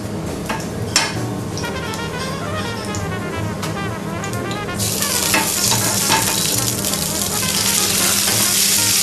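Skate fish fries in a pan with a steady, close sizzle that grows louder and denser about halfway through, with faint clinks of stirring or utensils and no talking.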